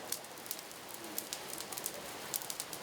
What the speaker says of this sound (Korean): 타닥타닥 숯불 소리와 함께 먹음직스럽게 구워진 해산물에 군침이 돈다.